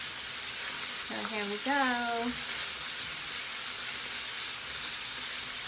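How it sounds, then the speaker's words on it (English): Steady, close sizzling of snapper frying in a hot pan with scallions runs throughout, with a person speaking briefly over it. "My fish is definitely frying up."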